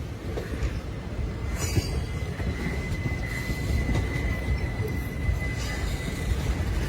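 Passenger train on the Kakinada to Mysore run, heard from inside a coach near Rajahmundry: a steady loud rumble of wheels on rails, with a thin sustained squeal of wheels and scattered clanks over the continuous roar.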